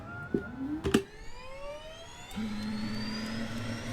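Cirrus Vision Jet SF50 single jet engine starting up in Microsoft Flight Simulator, a rising whine that climbs steadily in pitch after a few clicks, then settles into a droning hum, with no speech.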